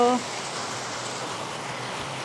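Steady, dense hiss of rain falling and pattering on surfaces, a continuous even wash of sound after a brief tonal start.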